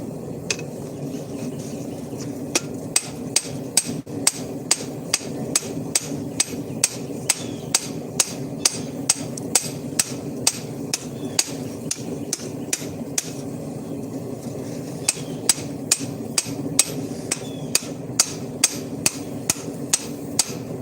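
Blacksmith's hammer striking hot metal on an anvil during forging outdoors under a solar eclipse, a steady series of sharp ringing blows in bursts with short pauses, fairly close over low background hum, no talking.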